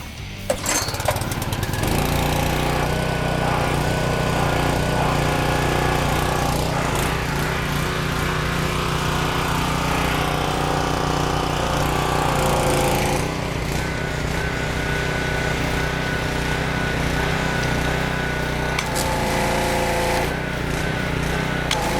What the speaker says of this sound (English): Let's go ahead and fire her up, and we'll see how she does.